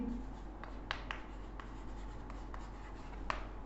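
Chalk or marker writing on a board during a math lecture on continuity, a faint scratching with several short sharp taps and strokes spaced irregularly over quiet room tone.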